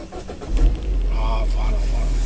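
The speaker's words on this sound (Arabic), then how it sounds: "سمحوا لي انا نقلع في المحرك" A car engine cranks and catches, then settles into a steady low idle close by, while a person talks over it.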